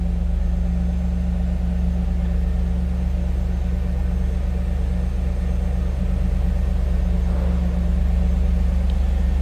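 A 1997 Chevrolet Camaro Z/28 convertible with a 5.7 liter V8 runs steadily, a loud, continuous low rumble with no talk over it.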